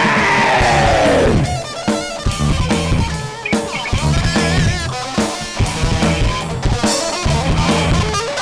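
A festival crowd at the Hornbill Festival in Mon screams and cheers loudly, a dense roar of voices over a pounding, steady music beat.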